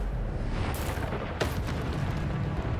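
A fire spell being cast in Hogwarts Legacy, heard as a sudden whooshing burst of flame at about 0.7 seconds and a sharper crackling flare near 1.4 seconds, both over a constant dense roar of game ambience.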